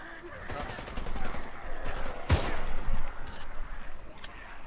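Gunfire in the zombie shooter Contagion on PC: a sharp, loud shot stands out midway over a dense, noisy backdrop of game sounds, with scattered fainter pops around it and a player's voice talking over the mix.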